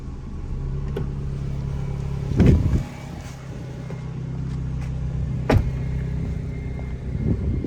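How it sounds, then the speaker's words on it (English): An Alpine A110S sports car engine idles steadily outside nearby with a low, even rumble, broken by a couple of brief louder thumps. "let me leave the car running, and I will let you hear it from the outside"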